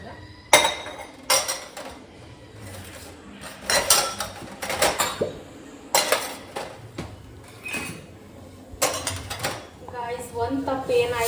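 Pots, tea vessels and dishes clatter and clink in a home kitchen in a series of sharp, close bursts, with short pauses between the loud metallic knocks and scrapes.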